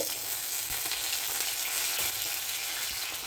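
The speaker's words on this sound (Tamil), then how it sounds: "கடுகு பொரிஞ்சு வந்துருச்சு" Mustard seeds crackling and spluttering in hot oil, a dense continuous sizzle with sharp little pops scattered throughout.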